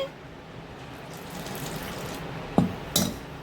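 Steady pouring of water into dosa batter in a bowl runs for a few seconds, then two sharp clunks sound close together near the end.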